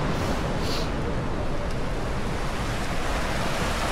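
Sea waves wash onto a shore in Cyprus, a constant broad rushing roar with a touch of wind, steady and close, with no one speaking.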